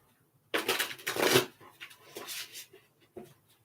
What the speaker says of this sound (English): Okay, then now let's shuffle these ones.